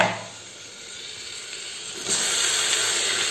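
Tomatoes drop into hot oil and softened onions in a pan for a vaal amti (field bean curry). A steady hiss swells into a louder, sustained sizzle partway through, with no talk over it.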